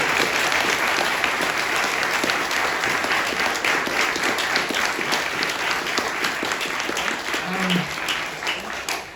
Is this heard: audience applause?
yes